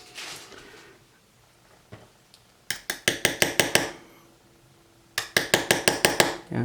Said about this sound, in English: I'm just going to give it a little tap with the brass hammer